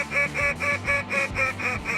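Ducks quacking during a duck hunt, a rapid, evenly spaced run of about eight loud, nasal quacks close by, with no talking.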